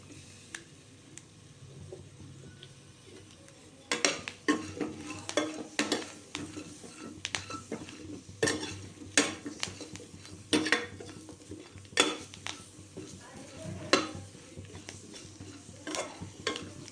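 Chopped onions fry in a pan, a quiet sizzle punctuated by repeated scraping and clinking strokes of a utensil against the metal as they are stirred.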